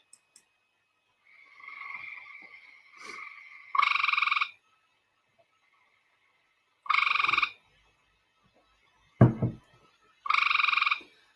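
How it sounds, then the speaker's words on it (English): A male frog gives its breeding-season advertisement call, loud buzzy croaks repeated in separate bursts with quiet pauses between them, heard alone and close. "So this male is producing what's called an advertisement call, which is a call produced by a male frog to attract a female during the breeding season."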